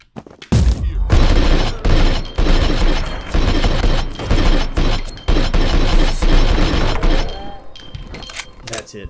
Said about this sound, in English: Switch the submachine gun. We got to use some ammo up here.